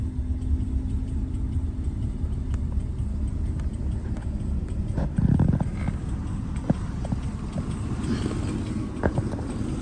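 A 1977 Cadillac Seville with a fuel-injected engine running, giving a steady, close, low rumble with a faint rhythmic lope that holds throughout.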